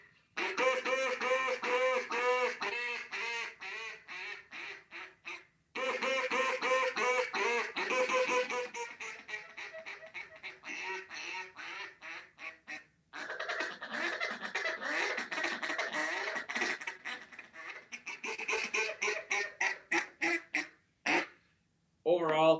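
Archangel duck call blown by a person imitating a duck, loud raspy quack sequences in rapid bursts and drawn-out chuckles, several separate runs broken by short pauses.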